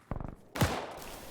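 Enemy gunfire in a D-Day Juno Beach video game: a quick rattling burst of rapid shots followed by one heavy, loud blast that decays into a rumbling tail.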